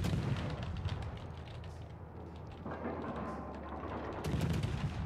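Naval guns of the Soviet destroyer Tashkent firing in a warship battle game: a steady rumbling barrage of gunfire and booms that keeps going, then swells louder toward the end, with no talking.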